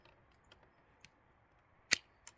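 Pruning shears cut a thorny jujube tree branch outdoors, giving a couple of crisp, brief snips and a few faint clicks against quiet background.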